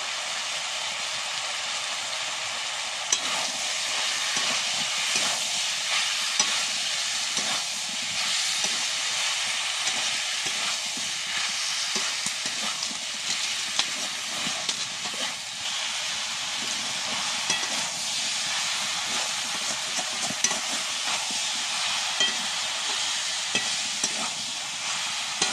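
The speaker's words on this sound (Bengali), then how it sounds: "ভালো করে কষানো হয়ে গেছে" Spices with young jackfruit and shrimp sautéing in a pan, a steady close sizzling hiss throughout with light stirring scrapes and clicks.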